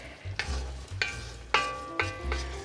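Crawfish bisque ingredients searing in a pot over medium-high heat give a steady sizzle, with several louder bursts of stirring and clanking utensil scrapes across the short stretch.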